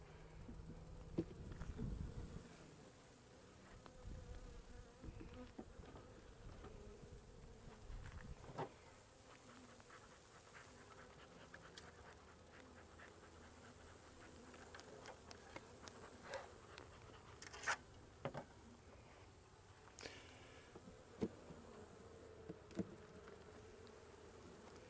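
Honey bees buzz in a dense, steady drone at an opened beehive fed with a pollen patty, close and continuous, with occasional clicks and knocks from hive handling.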